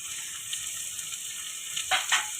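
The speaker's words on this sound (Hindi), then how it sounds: "ये चने बॉईल करके रखे थे, ये इसमें हम डाल दें। 1 प्याली इसको ज़रा सा भून लें।" Boiled black chickpeas fry in a pan for pulao, making a faint, even sizzle that runs the whole time, with two brief scraping stirs close by near the end.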